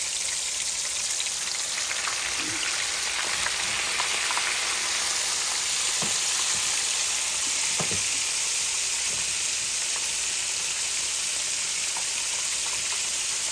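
Red snapper fries in a hot pan with a dense, steady sizzle and spatter, close and continuous, broken by a few soft clinks of utensils, with no talking.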